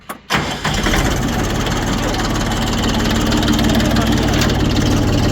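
A Kentavr tractor's engine starts with a sharp burst, then runs on in a loud, steady, close idle with a rough, chugging texture, as someone talks over it.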